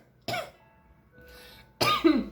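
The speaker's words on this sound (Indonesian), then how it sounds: "maaf, batuk." Two close, harsh coughs separated by a brief pause, the second louder and rougher, with a faint breathy sound between them.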